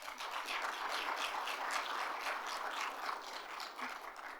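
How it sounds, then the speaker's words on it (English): An audience applauds Paula at a conference opening, steady clapping that holds at an even level from start to finish with no talk over it. "So if we can have one more round of applause for Paula."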